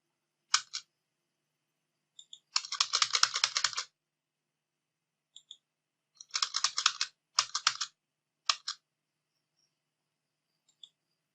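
Computer keyboard typing in short bursts: a few isolated key clicks, then rapid runs of crisp keystrokes separated by pauses, close and clear in a quiet room with no talking.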